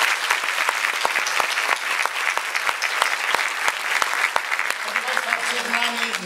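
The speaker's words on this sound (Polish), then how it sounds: "Proszę na oklaski." Loud, dense audience applause fills a hall during a live transatlantic video link event between Ostrów Wielkopolski and Brantford, steady throughout, with voices beginning to rise near the end.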